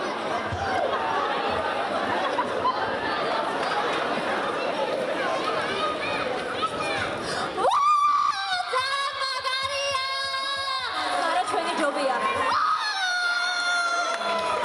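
A crowd of young people cheers and shouts loudly, with excited chatter and a burst of high-pitched yelling mid-clip.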